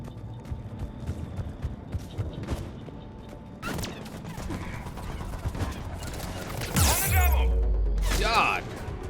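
Rapid turret gunfire in the Mass Effect 3 video game, bursts of shots and impacts rattling over a busy combat mix, swelling to a loud crashing peak near the end while a player reacts with exclamations.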